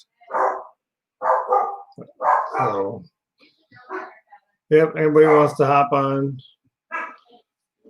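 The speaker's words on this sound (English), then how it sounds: "you're gonna hear the dogs in the background" Dogs upset by a thunderstorm bark in the background, sharp and repeated in bursts while someone talks over them in a room.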